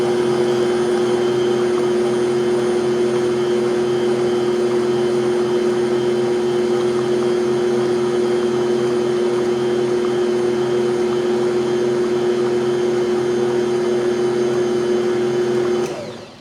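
An old Bosch stand mixer, in use for decades, beats thick pumpkin bread batter with a loud, steady motor whir that runs unbroken and then cuts off at the very end.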